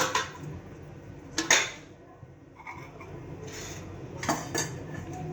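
A metal pan set down on a gas stove before frying puris produces a couple of sharp clanks and scrapes, separated by quiet kitchen background.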